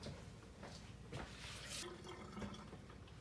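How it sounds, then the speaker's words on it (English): Hands are rinsed under a running kitchen tap after mixing canned salmon patty dough, with water splashing steadily and faintly, including a brief louder gush midway. "I'm going to wash my hand off."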